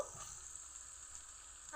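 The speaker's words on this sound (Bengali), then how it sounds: "সবজিগুলো কিছুক্ষণ কষিয়ে নিয়েছি আর হালকা ভাজা ভাজা হয়ে গেছে এখন রাখা চিকেনগুলো দিয়ে দিব" Chicken and vegetables fry in a pan with a steady, close sizzle that holds evenly throughout, with no one talking.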